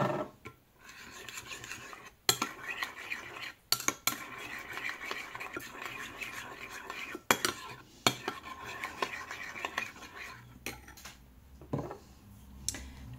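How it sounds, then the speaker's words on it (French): A spoon stirs spices into a mixture in a bowl, with scraping and sharp clinks against the sides at irregular intervals, quiet and close with no talk. "On mélange."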